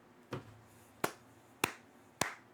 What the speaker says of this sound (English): I can't clap too hard.